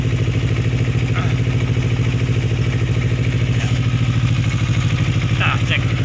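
A Kawasaki Ninja 250R fuel-injected motorcycle engine idling, running off the battery, a steady, even mid-pitched rumble with light clatter, close and loud throughout.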